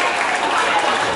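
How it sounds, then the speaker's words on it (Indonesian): A school classroom audience of high school students breaks into brief, dense applause, a short continuous burst of many hands clapping close by. "Tepuk tangan dong."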